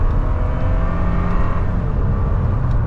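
A 2nd-generation Toyota Tacoma pickup's engine roars loudly and steadily as it is brake-revved for a launch, a close, sustained drone with no talking.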